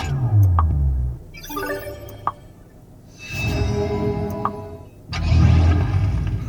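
Turning the drive mode dial in a Renault Grand Koleos 4WD gasoline SUV triggers a short electronic sound effect of sweeping chime tones, heard in quiet cabin sections between stretches of low engine and road hum.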